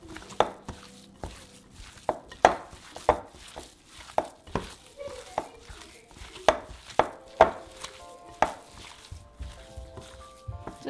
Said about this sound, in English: we're going to mix it all together and make sure that our spices are evenly distributed through our meat